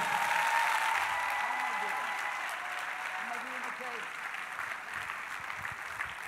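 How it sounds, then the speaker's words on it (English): Women in a large church congregation, around three hundred of them, clap their hands together in steady, sustained applause during a sermon, filling the room at moderate volume for several seconds. "300 women, clap your hands while I find a breath."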